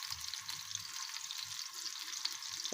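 Chopped onions fry gently over low heat in a pan while a Pakistani-style omelette is being made. The sizzle is soft and steady, with a few faint stirring scrapes and no talking.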